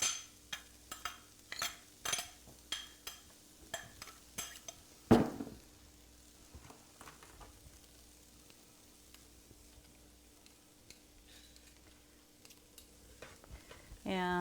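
Rice tipped into a hot pan and stir-fried for shrimp fried rice, with a run of quick scraping stirs and clinks, one sharp clatter in the middle, then a soft steady sizzle.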